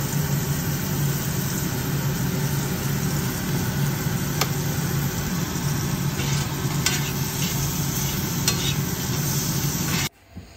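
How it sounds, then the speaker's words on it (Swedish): Chopped roe deer buck testicles fry in a pan with a steady, loud, continuous sizzle and faint clinks of stirring, then cut off abruptly near the end. "Och nu har jag stekt bockens kulor"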